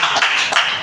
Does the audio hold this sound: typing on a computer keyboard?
no